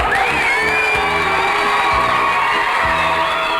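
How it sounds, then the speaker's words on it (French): An audience cheers and whoops for a boy named Antoine, loud and close, with high shouts over a dense crowd roar. Brief low thumps recur under the noise. "Et on l'applaudit, allez."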